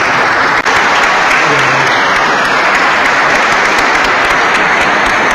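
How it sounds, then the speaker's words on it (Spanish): Church congregation applauding loudly as a brother is welcomed, a dense, continuous roar of clapping from a large crowd, close and steady for the whole stretch. "Recibamos al hermano con un fuerte aplauso."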